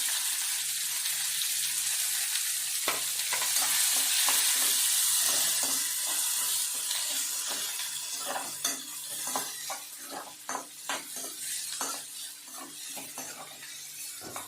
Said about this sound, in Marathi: तो कांदा आपण फोडणीत घालायचा आहे.